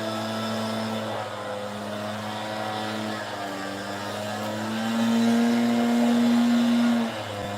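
A lawn mower cuts grass nearby outdoors, giving a steady, loud motor drone that runs the whole time and swells a little near the end, with no talking over it.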